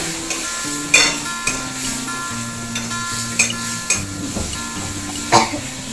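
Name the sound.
stirring long bean mash cooking in pan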